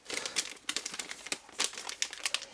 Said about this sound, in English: Move aside these packing peanuts